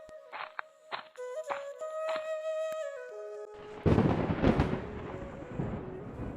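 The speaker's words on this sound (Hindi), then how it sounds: "रात भर तूफान, बिजली और तेज बारिश होने लगी।" A cartoon thunder effect for a stormy night with lightning and heavy rain: after a few plucked musical notes, a loud, broad rumbling crash bursts in and rolls on for several seconds.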